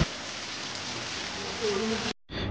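Rain falling outdoors during a hill trip in Bandarban, a steady even hiss that cuts out briefly near the end before resuming.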